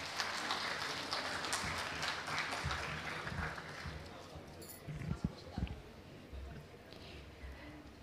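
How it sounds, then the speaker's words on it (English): An indoor audience at a conference award ceremony breaks into applause for the winners, a dense patter of clapping that thins out toward the end, with scattered claps and some background voices. "Please clap for them and enjoy the time"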